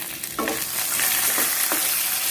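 Cut green chili sizzling as it drops into hot oil in a pan while peanut chutney is made, a steady, close frying hiss with a few louder bursts as it is stirred.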